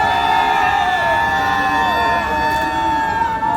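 A rally crowd at Bosingak lets out a loud, sustained cheer of shouts and whoops, with voices holding high, wavering tones throughout.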